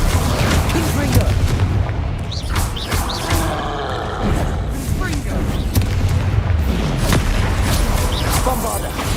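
Spell blasts from Hogwarts Legacy combat erupt in heavy booms and crackling bursts over a dense, continuous wash of game noise, with a voice shouting spell names during the fighting.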